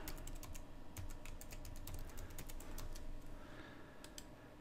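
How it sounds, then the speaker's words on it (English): Rapid keyboard typing of a password on a computer keyboard during Windows Server 2012 R2 setup, a steady run of crisp key clicks over a low background hum, close and clear, with no voices. "type in your complex password"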